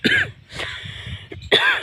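A man coughs three times in bursts, close and loud, with throat-clearing rasp between, before telling a story after eating jamun fruit.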